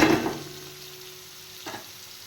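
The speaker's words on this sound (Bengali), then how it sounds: "এবার আলুগুলো ভেজে নেব" Cut potatoes frying in oil in a kadai, with a brief loud sizzle and stir at the start that fades to a quiet hiss, then a second soft stir near the end.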